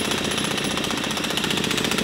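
A jackhammer in New York pounds in a rapid, steady rhythm, loud and nearby, its rattling hits running continuously without pause.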